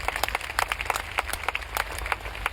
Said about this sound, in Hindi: एक जोरदार तालियां आपकी खुद के लिए होनी चाहिए